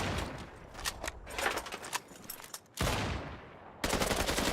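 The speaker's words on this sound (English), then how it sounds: "Niso being an absolute monster with that Kar 98K" Kar 98K bolt-action rifle shots in a competitive Battlefield-style match on the Liberation map, several sharp loud reports among dense game gunfire and bursts, with brief gaps between volleys.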